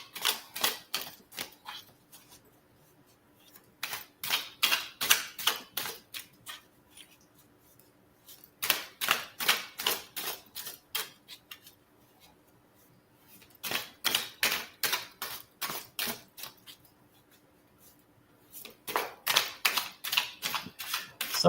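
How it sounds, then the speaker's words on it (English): Tarot cards being taken out and shuffled for a live reading, crisp rapid riffling bursts repeating in several bouts with short pauses between, close and clear with no talking. "let me get my cards out"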